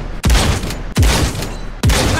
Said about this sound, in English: So there's a shotgun.